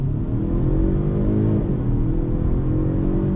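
A 2021 Genesis G70 accelerating under throttle, heard as a steady, fairly loud engine drone from inside the car that rises slightly in pitch over a few seconds, with no talk.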